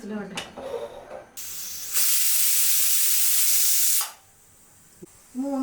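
A loud, steady hiss of steam blasts from a pressure cooker whistle while cooking beef curry, lasting about two seconds, preceded and followed by brief kitchen noise and faint voices.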